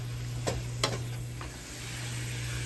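Frying ground meat, partly still frozen, is broken up and stirred in a pan while cooking spaghetti sauce, giving a steady sizzle with two or three sharp scraping clicks from the utensil, close and alone.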